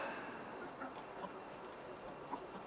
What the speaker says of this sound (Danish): det var sådan en lille video lige om vores små høns